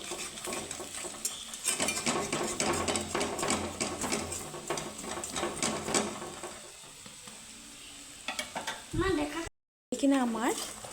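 Pointed gourd fritters (bora) frying in oil in a pan, a steady sizzle with clinks of a utensil against the pan, fading toward the end where someone speaks.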